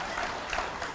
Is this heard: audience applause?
yes